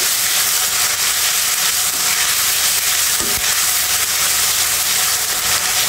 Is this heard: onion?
yes